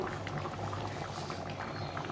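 Steady bubbling of a pot of lentils boiling on the stove, a continuous soft gurgle and patter with no voices.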